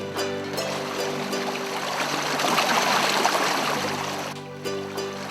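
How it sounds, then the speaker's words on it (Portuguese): Water flowing through ancient Inca stone canals in Ollantaytambo, a steady rushing stream that swells in the middle and eases toward the end, close and continuous, with no voices. "São os canais de água que, além de dar a cara, criam a trilha sonora da cidade."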